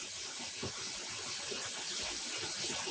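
Tap water pouring steadily into a sink while black-dyed yarn is rinsed of excess dye, a continuous close hiss and splash with no pauses.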